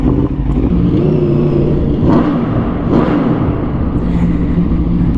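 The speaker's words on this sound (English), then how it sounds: "every single exhaust on an RSV4 sounds very good" A 2023 Aprilia RSV4 1100 motorcycle cruises on the freeway, its exhaust a loud, close, steady rumble with wind noise and slight rises in engine tone.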